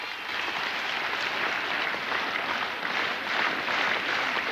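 A stadium crowd claps steadily as teams enter for a match, a dense, even wash of applause at moderate distance.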